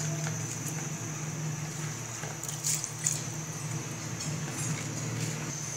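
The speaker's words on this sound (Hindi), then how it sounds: "पानी हमारा बॉईल हो चुका है। अब इसमें अपने हम राइस शामिल करेंगे" Rice and a spoonful of salt go into a pot of boiling water for biryani; a steady bubbling simmer carries throughout, with a few soft splashes and clinks near the middle.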